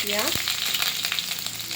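Chopped onion hits hot oil in a wok, giving a dense, loud crackling sizzle with small pops throughout the short burst.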